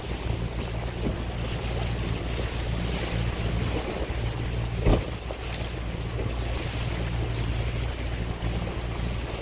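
Steady wind rushes over open water during an evening Flying Scot sailboat race in light 6-7 knot breeze, with soft hull and wave wash beneath, a constant near hiss and one brief bump midway, no voices.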